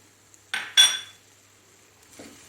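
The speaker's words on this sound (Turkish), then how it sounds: "Bunu da güzelce karıştıralım." A spoon stirs rice with ground chili, pepper flakes, black pepper and mint in a metal bowl for a stuffed vine leaf filling, giving two short, close scraping clinks and then a faint rustle.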